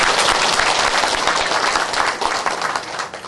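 A church congregation breaks into dense, loud applause, many hands clapping together in a continuous roar that eases slightly toward the end.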